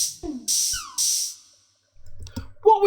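Marshall Synsonic drum kit samples played in the DSK Mini Drumz VST: a few loud, synthetic electronic hits with hissy bursts and a descending pitched zap, then a gap before softer mixed hits.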